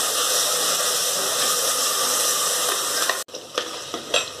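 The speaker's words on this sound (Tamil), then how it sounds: "இப்போ தக்காளி சேர்த்துடலாம். மிக்ஸ் பண்ணி விட்டுக்கோங்க." Tomatoes being stirred into onions frying golden brown for a clay-pot fish curry, a loud dense sizzle that drops abruptly near the end, leaving quieter spatter and a few stirring knocks.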